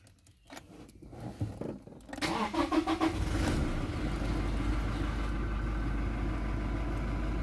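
A Toyota Innova 2.4 diesel with a manual gearbox cranks briefly with soft clicks, then catches and settles into a loud, steady diesel idle close by.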